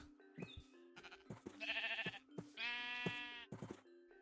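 Sheep bleating in the Minecraft video game, a run of short, close bleats with two longer wavering cries in the middle, heard alone.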